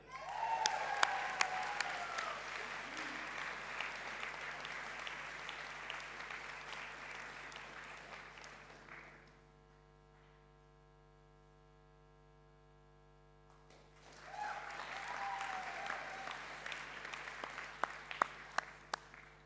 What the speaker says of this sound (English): let's have another round of applause for our well-deserving group of academic prize recipients